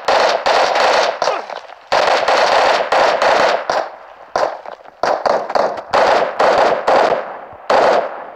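Gunfire in the mobile battle royale game PUBG Mobile, with loud rapid bursts of shots in repeated volleys separated by short pauses, close and dominant with no talking.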